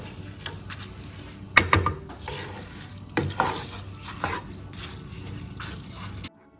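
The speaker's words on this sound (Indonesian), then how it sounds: "udah mendidih gini, diaduk-aduk aja ya" Coconut milk mixture boiling in a pot for Bugis Makassar katirisala cake, stirred with a few scraping strokes that thump and clatter against the pot over a steady low bubbling simmer.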